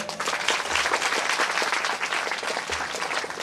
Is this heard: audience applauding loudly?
yes